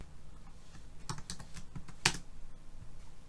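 Close keystrokes on a computer keyboard, a quick run of light taps followed by a sharper single clack, with faint background hiss.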